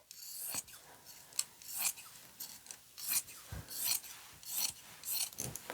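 Scissors cut through fabric for an upcycle project in a run of close, crisp snips and rasping slices with short pauses between, quiet and without talk.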